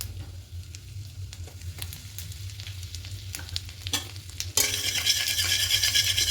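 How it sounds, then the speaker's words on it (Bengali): Nigella seeds and asafoetida in hot ghee, with scattered crackles and ticks over a low hum that give way to a sudden loud, steady sizzle once the spices hit the fat. "এবার ঘিয়ে দেব কালো জিরে ফোড়ন"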